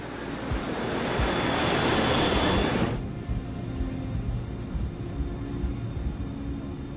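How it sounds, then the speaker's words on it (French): A Royal Air Maroc airliner takes off: a loud roar of jet engines swells and peaks over the first few seconds, then cuts to a quieter, steady rumble with faint background noise. "L'avion de Royal Air Maroc décolle sans difficulté."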